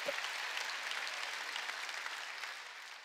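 A church congregation at a New Year's Eve service claps together, a soft, steady run of applause that fills the whole moment with no voices over it.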